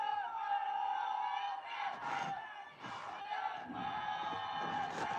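Loud, sustained crowd roar and chanting fills a stadium during a Nepal vs India women's football match, swelling in waves with a commentator talking over it.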